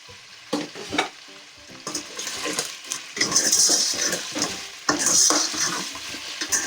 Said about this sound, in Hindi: यहाँ हमारा लहसुन अदरक अच्छे से जो है वो फ्राई हो गया है चिकन के साथ